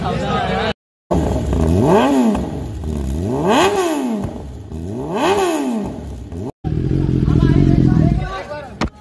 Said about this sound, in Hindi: आयुष भाई आ रहे हैं उनकी नई बाइक 1000 RR